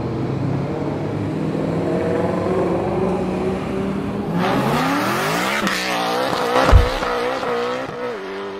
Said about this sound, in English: Here's that Senna GTR.